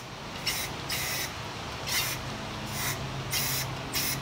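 Repeated bursts of spray paint coating two-man saw parts outdoors on a windy fall day, five or six short hisses of about half a second each, separated by pauses, close and fairly loud.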